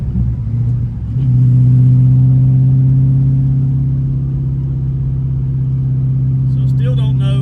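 A Chevy S10 truck with an LSX engine fitted with a FAST LSXRT intake accelerates in a steady, loud low rumble that rises and holds as the truck pulls away, with no clear break for a gear shift.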